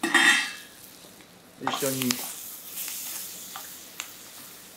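Bacon tossed into a pot with onions and stir-fried, a loud sizzling hiss as it lands, then softer frying crackle with a few utensil clinks; someone speaks over it.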